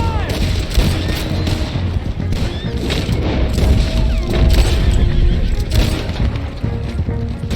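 Gunshots ring out in a tense Red Dead Redemption 2 standoff at a hanging, with repeated loud cracks and booms over a dense, noisy background while voices talk.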